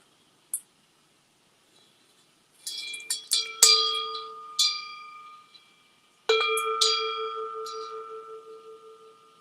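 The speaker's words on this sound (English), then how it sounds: "I'm just ringing my bell as a way to end my live stream a little bit." A small hand bell is struck several times to close a live stream, a few separate rings followed by a cluster of strikes and one long ringing tone that fades slowly, close and alone in a quiet room.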